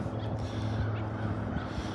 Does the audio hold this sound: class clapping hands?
no